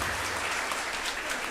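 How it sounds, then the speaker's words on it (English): Steady applause from an audience at the inauguration of the NIELIT Bhubaneswar centre, dense, continuous clapping at an even level with no voices standing out. "Can we have a round of applause, everyone?"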